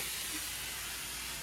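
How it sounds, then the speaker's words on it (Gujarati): A pressure cooker valve releases steam while moong dal cooks, giving a steady, loud, broadband hiss that holds evenly for the whole moment without a break. "પછી મગની કુકરમાં હવા ભરાઈ ગઈ તો વાલથી પાછો નીકળે"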